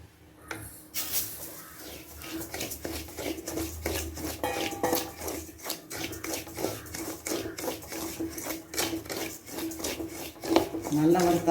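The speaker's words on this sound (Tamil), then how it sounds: "அதில் கொஞ்சமாக எண்ணெய் ஊற்றி இந்த சம்பா ரவையை நம்ம வறுத்து எடுத்துக்கோம்" Samba wheat rava roasts in a little oil in a pan, stirred with a spatula that scrapes and taps the metal in an irregular rhythm over a soft sizzle, close and moderately loud, with faint background noise.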